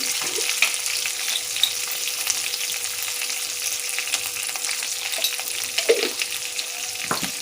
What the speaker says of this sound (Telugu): ఇవన్నీ బాగా ఫ్రై అయినద్దామండి